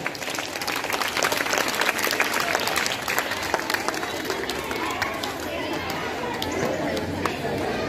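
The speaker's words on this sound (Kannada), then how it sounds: "ಅವ್ರಿಗೂ ಕೂಡ ಆತ್ಮೀಯವಾಗಿ ಸ್ವಾಗತವನ್ನು ಕೋರೋಣ, ಜೋರಾದ ಚಪ್ಪಾಳೆಯೊಂದಿಗೆ ಮಕ್ಕಳೇ." Schoolchildren at a government school's Independence Day celebration clap loudly and continuously to welcome a guest, with crowd chatter and movement underneath.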